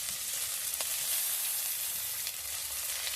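Chopped onion and green chili fry with white cumin in mustard oil, producing a continuous close hissing sizzle at moderate level with no talking.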